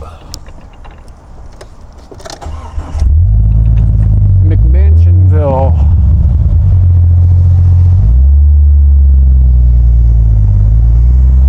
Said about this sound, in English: What's this idiot doing with the extremely loud Jeep?